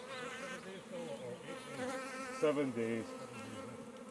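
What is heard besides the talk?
honey bees buzzing at a hive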